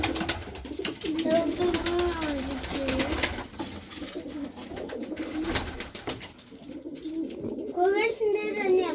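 Pigeons coo in a spring farmyard with goats and chickens, several soft rolling calls close by, the loudest burst near the end, while children and adults talk over them.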